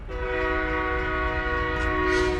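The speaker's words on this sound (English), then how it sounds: "That's a nice train." A train in American Truck Simulator sounds a loud, sustained multi-tone horn over the low rumble of rolling wagons, steady and close, with no talk.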